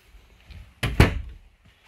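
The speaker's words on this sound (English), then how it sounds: "Pull out drawers on all your pantries." Pantry drawers in a 2014 Newmar Dutchstar 4369 motorhome slide and thunk shut, two close solid knocks following a few soft rustles, in an otherwise quiet interior.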